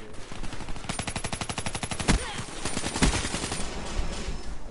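Rapid automatic gunfire from the video game Black Ops 3 rattles in close, dense bursts, with a couple of heavier shots standing out amid steady in-game combat noise.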